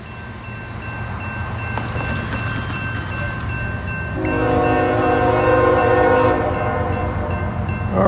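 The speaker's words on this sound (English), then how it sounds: "Got I-142 coming north here. CSX intermodal." A CSX intermodal freight train passes the Dayton Street crossing in Hamilton on the old B&O line on a cold, windy day. Its deep engine rumble is steady, and a loud, sustained multi-tone horn blast sounds near the midpoint.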